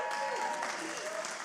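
Applause from the audience at a charity gala, a dense, even clapping wash from the crowd with faint tonal background hum beneath.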